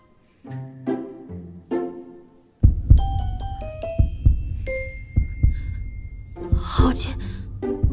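Fast heartbeat sound effect in a Chinese fantasy costume drama: after a voice at the start, steady, rapid low thumps pulse close and clear beneath sustained musical tones and a shimmering swell.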